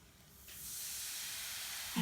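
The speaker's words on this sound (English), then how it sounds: "That volcano is really fizzing." A baking soda and vinegar volcano starts fizzing as vinegar is poured in, giving a steady, airy hiss that swells within the first half second and then holds on its own.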